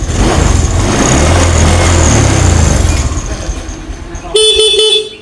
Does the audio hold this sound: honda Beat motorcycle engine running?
yes